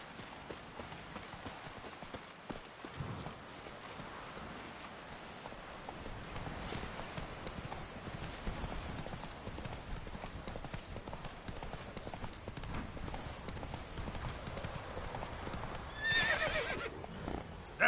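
A horse galloping in the video game Witcher 3 wild hunt, with steady rapid hoofbeats on the ground under wind and game ambience and a brief whinny near the end.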